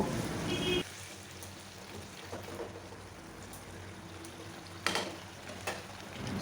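Mixed vegetables frying in a pan give a steady, moderately quiet sizzle and crackle throughout, with a few brief clinks or stirring sounds partway through.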